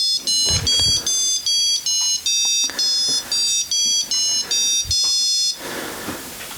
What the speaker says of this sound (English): I'll try to start it up because it comes with a very cool Christmas jingle.